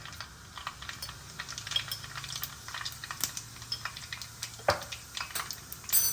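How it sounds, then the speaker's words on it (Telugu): Mustard seeds and cumin splutter in hot oil, making quiet, rapid crackles and pops with an occasional utensil tap against the pan. "ఆవాలు మన ఆవాలు చిట్పట్టమంటున్నాయి ఇంకా మనం కొంచెం జీలకర్ర వేసేసుకున్నాం"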